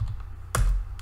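A couple of soft keystrokes on a computer keyboard, close and quiet, one sharper tap standing out in the brief moment with a faint hum beneath.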